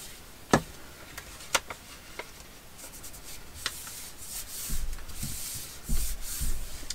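A glue stick is rubbed onto a paper flap for a floating pocket craft, giving soft, short scraping strokes with a few sharp taps, close and quiet, and a denser rubbing toward the end.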